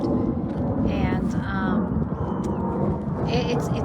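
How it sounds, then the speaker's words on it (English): Airplanes pass overhead above Concordia Cemetery in El Paso, Texas, a steady broad roar blended with wind noise on the microphone, continuous through the whole stretch, while a person talks over it. "you can hear the planes going overhead"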